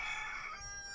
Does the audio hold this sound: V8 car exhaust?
no